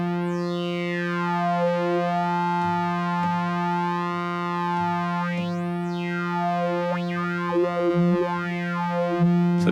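Cherry Audio GX-80 synthesizer playing a sustained harmonic-rich tone through a high-pass filter, with swooping pitch glides and sweeping chirps rising and falling over a steady drone, loud and alone.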